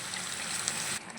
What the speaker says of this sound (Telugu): ఇప్పుడు కొంచెం గోరువెచ్చని వాటర్ ఒక 1/2 కప్పు పోద్దాం ఫ్రెండ్స్.